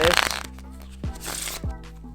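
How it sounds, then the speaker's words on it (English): Playing cards riffled in a controlling shuffle during a simple false-cut magic demonstration, with a burst of riffling at the start and two shorter riffles later, close and crisp. "You could also mix it in with some controlling shuffles like"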